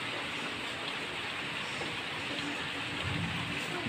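Rain falling steadily outdoors, a dense even hiss with no voices, continuous and moderately faint across the whole stretch.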